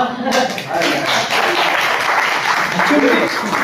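Audience applause at a Teachers Day celebration, a steady wash of many hands clapping in a hall, fairly loud and sustained, with a voice speaking over it.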